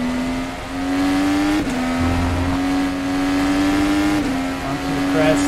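An IndyCar race car accelerates hard out of the pit exit at the Alabama IndyCar Grand Prix, its loud, high engine whine holding steady from onboard and broken by two quick gear shifts.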